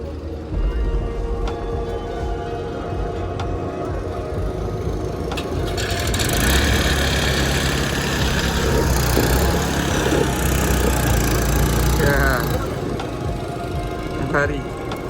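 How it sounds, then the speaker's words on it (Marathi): A passenger boat's engine is started and left running at Omkareshwar, a steady low motor drone that swells louder partway through, with people talking over it. "त्या बघा कशी बोट चालू करतोय तो"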